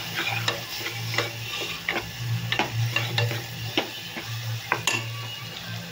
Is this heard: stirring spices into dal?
yes